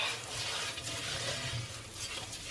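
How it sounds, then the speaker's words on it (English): A pot of rice pudding with vanilla seeds and pod being stirred, giving a steady, close scraping and swishing texture with a faint low bubbling underneath, no voices. "we're going to give this a stir up"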